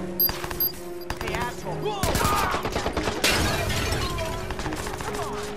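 Rapid bursts of gunfire ring out during a shootout inside a house in Watch Dogs, sharp cracks stacking into dense volleys that grow louder and more chaotic, with a voice speaking over the shots.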